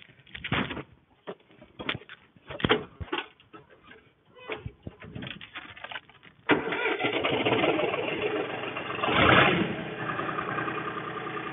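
Deutz-Fahr Agromaxx 50E tractor engine turns over after scattered knocks and clatter, then settles into a steady, close, rumbling idle from about the midpoint, with a brief louder swell near the end.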